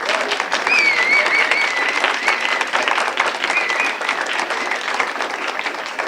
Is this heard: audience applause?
yes